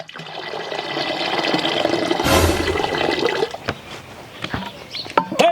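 Water is poured into milk in a loud, close gushing rush that swells, then trails off into lighter splashes and a few knocks.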